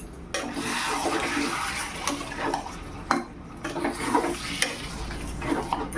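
Chicken sautéed with Kashmiri and hot chili powder masala in a pan for Peshawari chicken, with a spoon scraping and clinking against the pan over a soft sizzle, close and continuous.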